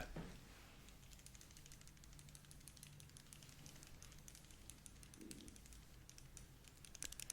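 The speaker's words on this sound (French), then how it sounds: "Le stylo, très bien." Soft close-up clicking and tapping of a pen being handled, quiet and intimate, with light scratchy textures and a few sharper clicks.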